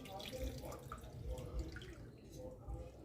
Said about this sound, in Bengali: এবার তেঁতুলটাতে জল দিয়ে রাখছি।